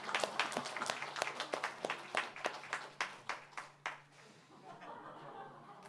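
A church youth congregation claps together during a Sunday sermon, a fairly quiet burst of hand claps in a steady patter that thins out and fades toward the end, with a few scattered chuckles mixed in.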